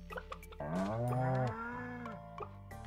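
A cow moos in Stardew Valley, one clear drawn-out low call with a falling tail, heard alone over faint background game sounds.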